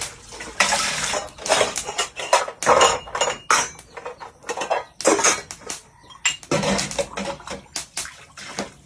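Small plates being washed in a compact kitchen sink, with running water splashing in bursts and ceramic dishes clinking and knocking close by, stopping and starting irregularly with no one talking.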